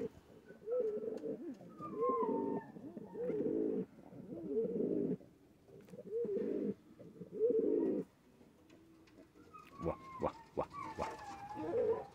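Pigeons coo close by in repeated throaty rolling bursts with short pauses between them, joined near the end by a few sharper chirps and clicks.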